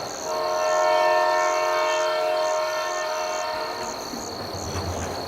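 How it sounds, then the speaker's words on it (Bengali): A steam train engine with locomotives at both ends begins to reverse, a sustained, loud whistle-like horn tone ringing over a low rolling rail rumble, with no voices. "এইবার পিছনের ইঞ্জিনটা পিছু হতে শুরু করলে"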